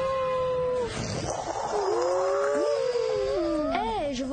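A cat yowls and meows in long, wavering, drawn-out cries over steady background noise, the calls sliding up and down in pitch for several seconds.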